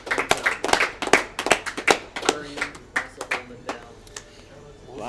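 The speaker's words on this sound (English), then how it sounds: "of applause for the commentators" Scattered hand claps from a small audience at a Smash tournament in Charlottesville, applauding the commentators in a room, irregular and moderately close, fading out toward the end.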